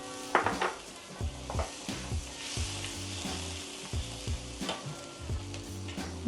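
Chili paste for a Thai green curry with beef fries in a pan over low heat, giving a steady sizzle broken by repeated scrapes and clinks of a utensil against the pan as it is stirred, with no talking.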